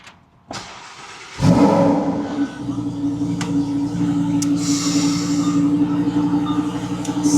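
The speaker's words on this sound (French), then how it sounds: "on va allumer la voiture" Rented Lamborghini or Ferrari supercar in Dubai fires up with a sharp crank and loud burst, then settles into a steady, rumbling idle that holds close and even to the end.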